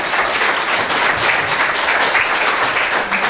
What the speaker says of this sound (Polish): Brawa jeszcze raz dla nich.